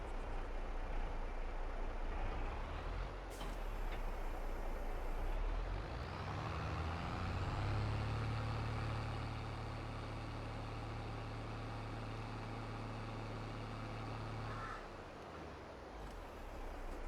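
A truck in Farming Simulator 22 whose engine revs up and settles into a steady low hum that holds for several seconds, then cuts off, with game ambience including crow caws.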